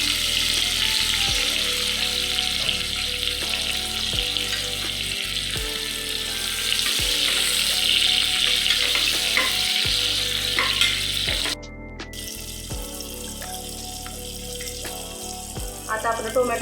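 Chopped onion dropped into a hot tempering of cumin seeds and curry leaves sizzles steadily in oil in a home kitchen, a continuous loud hiss with occasional stirring clatter, quieter after a brief pause near the end.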